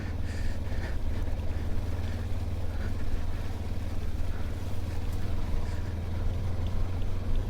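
A Mutt motorcycle is ridden at speed, its engine a steady low drone blended with heavy wind rush against the microphone, loud and continuous without any talk.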